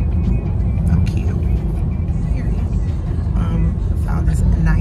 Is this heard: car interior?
yes